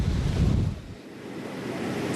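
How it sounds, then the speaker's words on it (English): Roaring wind and crashing surf from Hurricane Rita making landfall near Beaumont, Texas, a loud continuous rumble with heavy low buffeting against the microphone and no talking. "Howling winds, debris litters the streets, but what's dangerous now is the water is rapidly rising behind us."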